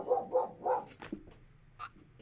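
A dog barks three times in a quick, fairly loud burst, then falls quiet amid faint indoor background noise during a vacuum and sewing shop livestream.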